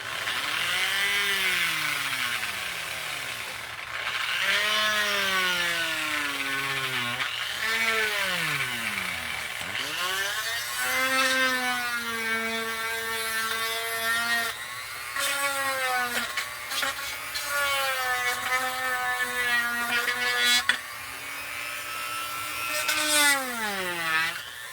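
A high-speed Dremel rotary tool whines and bogs as it cuts into a DIY great white shark model, its pitch sweeping up and down with the load in repeated passes, close and loud.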